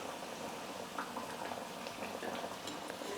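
Vada frying in hot oil in a pan, a steady close bubbling sizzle with small crackles and pops throughout, no voices.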